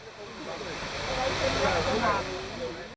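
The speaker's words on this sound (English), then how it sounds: "We have a beautiful view and hear the sound of the waterfall." Waterfall beside a restaurant in Luang Prabang, Laos: a steady broad rush of falling water, moderately loud and close, swelling slightly midway, with faint indistinct voices mixed into the wash.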